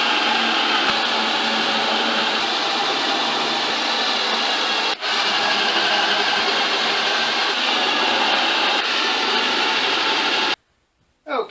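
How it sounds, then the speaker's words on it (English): Drill boring through holes and countersinks for lag bolts in a wooden lathe stand; a loud, steady whirring drone runs for about ten seconds with one brief dip, then cuts off abruptly. "all the through holes and countersinks are drilled"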